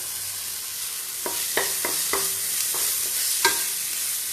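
Chana dal stirred and fried in a pan over lowered heat makes a steady sizzling hiss, broken by a series of sharp spoon-and-pan scrapes and clinks spread through the stretch. No one talks.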